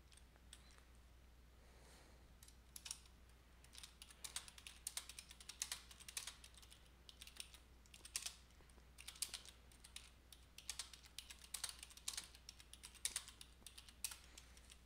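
Rapid, uneven bursts of keystrokes clatter on a computer keyboard, starting sparse and picking up into busier typing with short pauses, fairly quiet and close.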